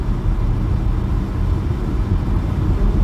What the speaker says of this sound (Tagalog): Kung naririnig nyo guys, yung tunog na yan, yun ang nag-blow ng heat sa loob ng sasakyan